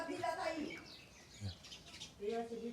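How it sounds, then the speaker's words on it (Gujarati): Sparrows chirp while building a nest, their brief high calls scattered among people talking nearby. "ચકલીઓ બોલે છે"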